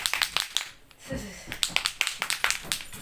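A string of sharp hand claps sounds close by in an uneven rhythm, with a brief spoken voice breaking in partway through before the clapping resumes.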